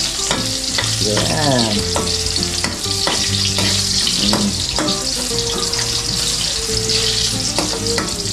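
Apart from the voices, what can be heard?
garlic frying in a pan for caldereta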